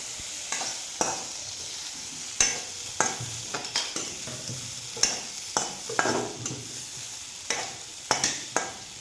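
Boiled potatoes and peas fry in a wok, heard as a soft sizzle under repeated sharp scrapes and knocks from a stirring spoon in an irregular rhythm, close by.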